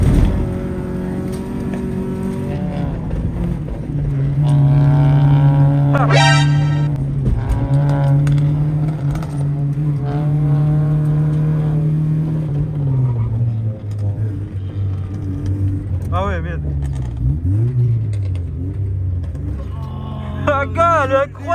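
A Honda motorbike engine held at full throttle, a loud, sustained roar whose pitch climbs and dips as it revs, close by, with voices talking over it.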